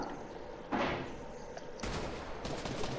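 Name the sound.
gunfire in the video game Fortnite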